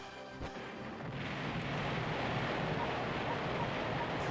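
Pulse cannon firing in the video game Battle Engine, heard as a sustained roaring, rushing blast that swells after a brief thump and stays loud, with no talking.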